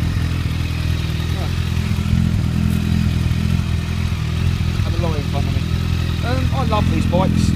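Kawasaki ZZR1400 motorcycle fitted with a Pipewerx exhaust and baffles, a steady low engine rumble running throughout at close range, with a few short chirping sounds near the end.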